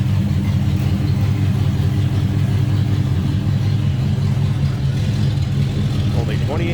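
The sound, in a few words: 1965 Oldsmobile Jetstar 88 425 engine idling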